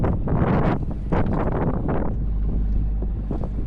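Gusty wind buffets a sailing boat after the sails are dropped, roaring and rushing loudly across the microphone in uneven surges.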